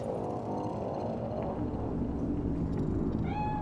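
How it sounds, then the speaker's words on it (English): Cat in the video game Cyberpunk 2077, set in Night City, giving a drawn-out meow over a dense, rumbling game ambience, with a brief higher tonal chirp near the end. "It's a cat like any other."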